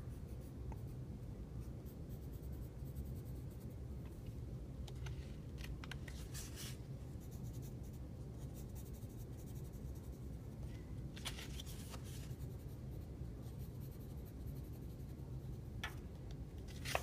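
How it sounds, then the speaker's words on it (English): A pencil scratches steadily across several sheets of paper while a name is written in the corner, a continuous close, soft scribbling with a few brief, sharper strokes and no talking. "I'm going to write my name in the bottom corner of 5 sheets of paper"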